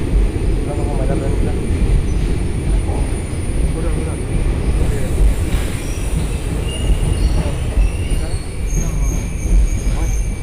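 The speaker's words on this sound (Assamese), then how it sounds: "এতিয়া ট্ৰেইন এখন আহিছে" A train rumbles past close by in Kottayam, Kerala, loud and continuous, with high metallic wheel squeals ringing over the heavy rolling clatter.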